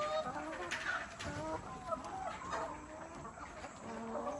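Laying hens cluck and squawk in overlapping bursts in a poultry barn in Ghana, a busy flock heard close, with a low steady hum of barn noise underneath.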